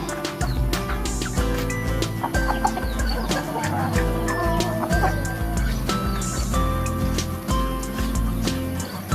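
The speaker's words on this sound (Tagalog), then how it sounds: "malalaki yung rooster ko dito. Rhode Island." Big Rhode Island roosters and hens cluck in a coop, with scattered close clucks and calls over a busy barnyard background. A voice murmurs faintly at times.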